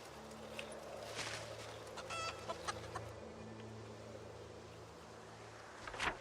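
Chickens clucking in the survival game Project Zomboid, several soft repeated clucks and short calls over a low steady hum, fairly faint and at a moderate distance.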